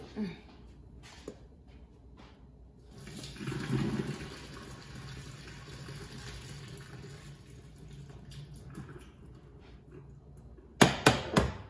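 Water pours out as boiled noodles are drained for sweet and spicy pancit canton, a soft rushing splash swelling for several seconds and then fading, followed by a few sharp clanks near the end.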